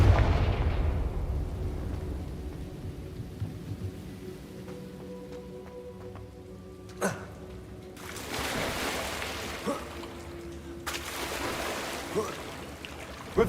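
A Confringo fire spell from the Hogwarts Legacy video game bursts with a rumbling blast at the start, decaying into crackling debris and roar, followed by sharp impacts and further noisy surges.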